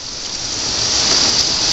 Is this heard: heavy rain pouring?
yes